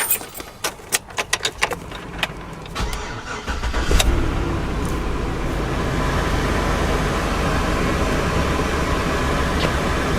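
An OBS Chevy Cheyenne pickup with a swapped LS engine starts close by: a few keys jangle and click, then the starter cranks briefly and the V8 catches and settles into a loud, steady idle.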